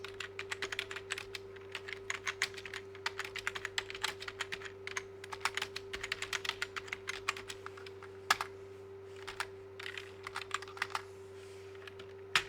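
Rapid clicking keystrokes on a computer keyboard, typing text into a new blank document, continuous with irregular bursts and short pauses, close and moderately quiet over a steady electrical hum.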